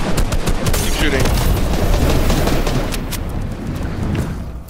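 Loud, rapid gunfire from Fortnite, a dense burst of overlapping shots that continues steadily and then thins slightly toward the end.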